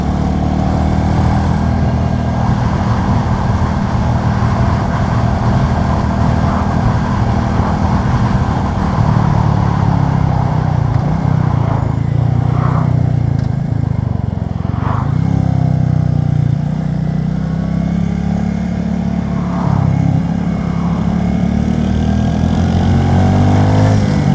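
Royal Enfield Classic 350 single-cylinder motorcycle engine while riding, a loud, close, continuous thumping drone with pitch shifts through gear changes and throttle rolls.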